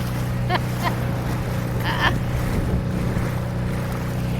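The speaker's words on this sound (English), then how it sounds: "First time we ever dinghied under one of these highway bridges." A small motor dinghy passes under a highway bridge with its engine droning steadily and low beneath wind and water noise. A few brief chirps cut through the drone.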